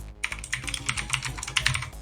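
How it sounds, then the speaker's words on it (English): Rapid typing on a computer keyboard close up, with a quick, uneven run of sharp key clicks and taps that starts after a brief pause and continues to the end. "We can hear you typing."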